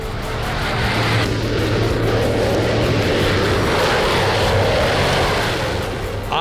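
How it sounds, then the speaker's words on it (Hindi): Fighter jets roar over Ovda airbase in Israel during a multinational air force exercise, a loud, steady broadband engine rumble that fills the whole stretch with no talk. "आठ देशों की हवाई सेना ओवदा एयरबेस पर गरज रही।"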